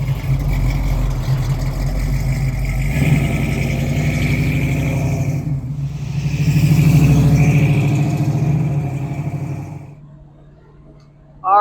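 A classic 1967 car's engine runs steadily with a low, continuous rumble that swells for a few seconds, as if revving, then settles back and fades near the end.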